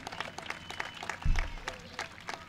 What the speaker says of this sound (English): please give a big, rousing Scotch Plains round of applause to our sponsors